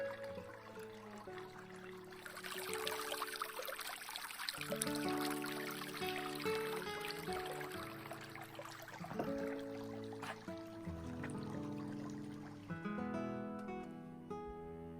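Creek water trickles steadily through a cottonwood-lined creek bed near Sedona and Cave Creek, Arizona, a soft continuous babble with faint bright splashes, heard alone with no talking.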